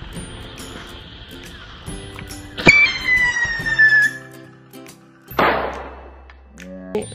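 A mercon tikus ground-spinning firecracker, lit alongside a Hot Wheels toy car, goes off with a sharp crack and then a whistling hiss that slides down in pitch, followed by a second fizzing burst, all near and loud.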